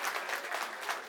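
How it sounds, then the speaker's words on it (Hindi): Workers at a party gathering in Delhi's Patparganj give a minister a welcome of applause, a soft, steady patter of many hands clapping at a distance with no break. "तो एक बार जोरदार तालियों से इनका स्वागत करिए"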